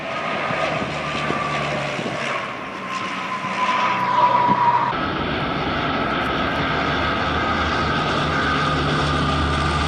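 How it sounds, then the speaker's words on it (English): NASA Super Guppy plane: a steady, loud propeller-engine drone passes at a distance, swelling slightly midway and continuing as a constant rumble with no voices. "NASA has their own version of the plane called the Super Guppy, except it's shorter and fatter."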